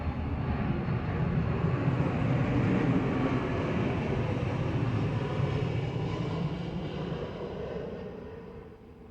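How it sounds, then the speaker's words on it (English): A vehicle passing by, a broad, steady rumble that holds loud for several seconds and then fades away, with no talking. "Vehicle passing by."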